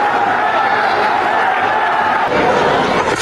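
Steady roar of a cricket crowd applauding at a one-day international between Afghanistan and South Africa, a continuous broad wash of clapping and cheering with no clear individual voices.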